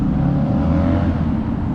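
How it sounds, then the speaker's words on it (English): A steady, loud engine and exhaust rumble from a car arriving at a morning car meet at a diner in Eagle Farm. It holds close and continuous with no talking. "Get a little bit of exhaust"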